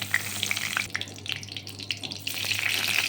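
Cumin seeds crackle and sizzle in hot refined oil, a steady frying hiss with scattered sharp pops, close and moderately loud, without speech.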